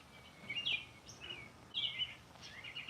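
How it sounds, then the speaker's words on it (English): Bird song outdoors: two bursts of bright, warbling chirps with quieter calls between them, moderately close against faint background noise. "What is that bird?"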